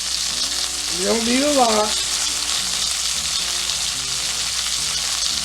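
Pan-seared New York strip steak sizzles steadily in a pan with butter and rosemary, a constant close hiss of frying. A voice speaks briefly over it.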